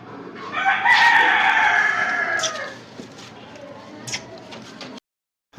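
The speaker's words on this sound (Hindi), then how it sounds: "ये जी हमारी मुर्गी है" A rooster crows loudly and close by, a long drawn-out call, followed by softer clucking and faint rustling from a home chicken coop before falling silent.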